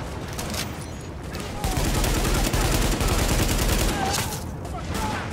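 Steady automatic gunfire in Tom Clancy's The Division, a dense, continuous rattle of shots that grows louder partway through and stays heavy. Voices are faintly mixed in beneath the firing.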